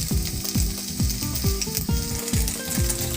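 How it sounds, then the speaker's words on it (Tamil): Cubed paneer shallow-frying in oil in a kadai over a low flame, giving a steady close sizzle with a rhythmic series of scraping, squeaking strokes roughly every half second. "கட் பண்ணி வச்சுருக்க பன்னீரை இதில் சேர்த்து ஷெல்லோ ஃப்ரை பண்ணிக்க போகிறோம்"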